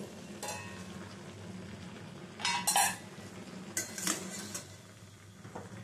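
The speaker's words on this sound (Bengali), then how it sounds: "এবারে ঢাকাটা সরিয়ে নিচ্ছি" A metal lid is lifted off a cooking pot of simmering elephant-foot-yam stems, giving two short clanking, scraping bursts of metal against metal over a low, steady kitchen background.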